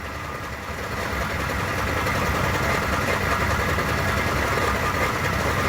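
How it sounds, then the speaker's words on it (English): A 3rd gen Toyota Tacoma sits in first gear with its engine running, giving a steady, loud, close drone with a faint buzzing rattle woven through it. "This is the subtle rattle that I'm hearing."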